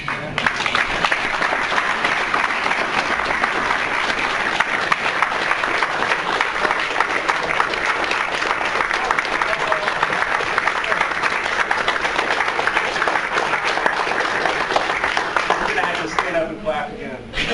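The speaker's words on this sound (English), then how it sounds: "Clap again." Long, steady applause from an audience after an architecture talk on green building, a continuous crackling wash of many hands that tapers slightly at the end, with some voices underneath.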